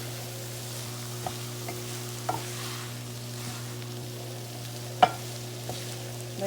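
Food sautéing in a pan for goulash gives a steady low sizzle with a constant hum beneath it, broken by a few sharp clinks and stirring knocks, the loudest about two-thirds of the way through.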